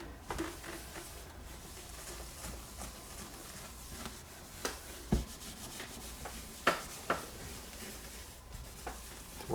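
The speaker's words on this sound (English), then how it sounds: "this rubbing compound, you think you polished it didn't get enough, just give it a good old overall on the whole lens here" A taillight lens from a 1995-1999 Mitsubishi Eclipse is rubbed by hand with rubbing compound, giving a soft, steady scrubbing hiss with scattered light taps, quiet and close throughout.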